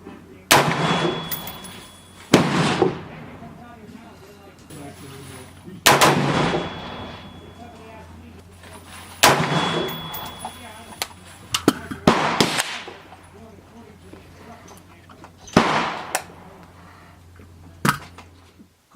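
Bushmaster ACR rifle firing at an outdoor range, six loud sharp shots spaced a few seconds apart, each with a ringing decay and echo, over low steady background noise.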